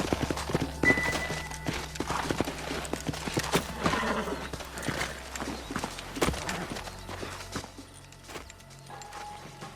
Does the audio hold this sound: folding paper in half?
no